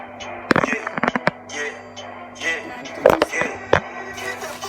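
Several sharp bangs from a firecracker sound bomb burst out in quick clusters, loud and close, separated by quieter stretches with faint background noise.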